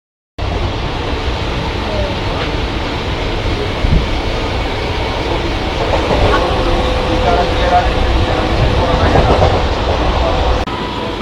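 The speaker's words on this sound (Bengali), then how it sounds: "আমাদের ট্রেন এখন ঢুকলো বৈদ্যবাটি।" Train pulling into Baidyabati station in West Bengal, a steady loud rumble of carriages heard from on board, with a voice speaking over it throughout.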